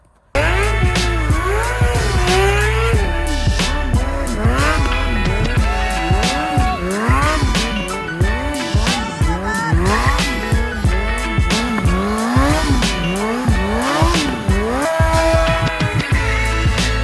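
A Kawasaki 636 motorcycle doing a burnout: the engine revs repeatedly in rising and falling bursts while the rear tire squeals and hisses continuously, loud and close.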